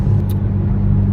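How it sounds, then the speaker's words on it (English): Fifth-generation Chevrolet Camaro with a new aftermarket exhaust cruising on the highway at about 75 mph, giving a steady, loud low engine and exhaust drone with road noise and no revving. "I'm very happy with the exhaust. It's quiet when you're just cruising along, but when you want it to scream, it definitely can do it."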